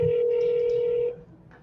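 A single steady phone tone sounds clearly for about a second and then stops abruptly, close and fairly loud, with no talking.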